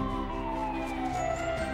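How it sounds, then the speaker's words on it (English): A cartoon fire truck siren wails in a steady descending tone, loud and close, with no voices over it. "A fire truck! Let's go see!"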